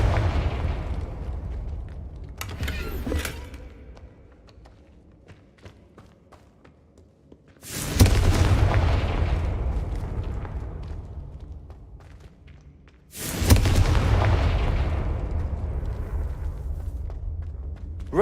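Three booming blasts from the Confringo curse in Hogwarts Legacy, each a sharp loud hit followed by a long, rumbling decay that fades over several seconds.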